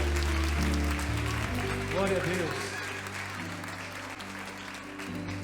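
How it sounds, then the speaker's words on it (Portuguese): Congregation clapping loudly in a Brazilian church service, a steady sustained roar of applause with a worship voice speaking over it and organ-like tones beneath. "Aplauda bem forte ao Senhor."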